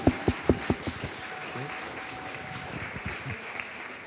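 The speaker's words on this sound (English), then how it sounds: "Can we have a round of applause for our panelists tonight?" Applause for panelists at an evening student talk event: a few sharp, close claps ring out first, then fade into a lighter, scattered patter of clapping from the audience.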